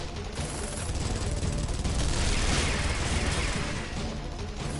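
Dense, sustained volley of gunfire from a Guilty Gear Strive video game cutscene, a loud continuous crackle of overlapping shots with no clear gaps, lasting several seconds.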